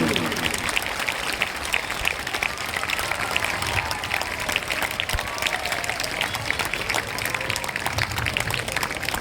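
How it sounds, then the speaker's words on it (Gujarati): Sustained applause fills a school admission ceremony hall, a dense, even roar of many hands clapping together for several seconds, moderately loud with faint crowd murmur beneath. "તાળીઓનો ગણગડાટ બંધ ન થવો જોઈએ."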